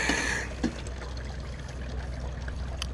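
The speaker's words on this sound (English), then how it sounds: "Using my Mad Mining recirculating sluice," Water runs through a Mad Mining recirculating sluice at a gold prospecting site in Coolgardie, a steady trickling flow that is louder at the start and then settles into a continuous low wash.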